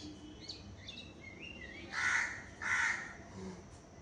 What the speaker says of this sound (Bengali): ও কাক কাক হচ্ছে